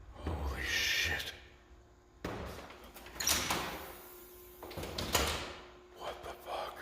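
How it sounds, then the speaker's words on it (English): A door swings shut on its own in a house, with scraping and knocking thuds followed by a sharper bang, several distinct impacts spread across the span amid room noise. "I heard a noise and I came out here and this fucking door was open and now it just shut by itself."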